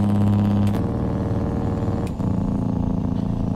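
Simulated 855 big cam truck engine in American Truck Simulator holds a steady, loud low rumble with dense harmonics, a brief dip near the middle, then settles back into the same drone with no talking.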